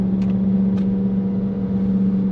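A deep, steady Hellcat V8 engine rumble through a valved sport exhaust, with a strong low hum, idling or held at constant revs nearby, with faint brief clicks.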